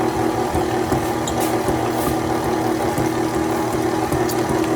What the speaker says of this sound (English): creaming the butter.